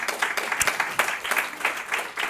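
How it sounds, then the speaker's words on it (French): Audience applause at a conference on women's empowerment and contraception in West Africa, a steady patter of clapping hands from a crowd lasting a couple of seconds, moderately loud and close. "Peut-être des applaudissements pour Adam."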